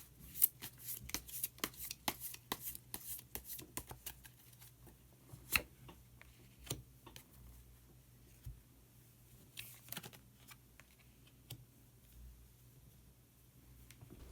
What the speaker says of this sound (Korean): 마지막으로 마법사 카드를 한 장 더 뽑아보도록 하겠습니다.